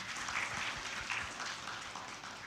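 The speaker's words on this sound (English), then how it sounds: "let's send big applause to Mr. Thomas Dikito." A seminar audience at a university biology education event applauds steadily for a couple of seconds, a dense, moderately loud wash of many hands clapping with no voices over it.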